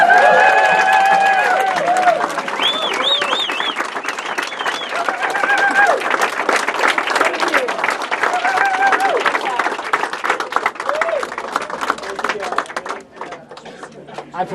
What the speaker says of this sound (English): you can show it now with your thunderous applause.